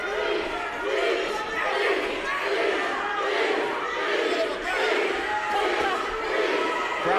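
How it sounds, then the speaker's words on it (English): Boxing arena crowd chanting "Beast" for Ivan Baranchyk during a fight against Abel Ramos, a loud rhythmic two-syllable chant repeating steadily from a large crowd. "Crowd chanting beast"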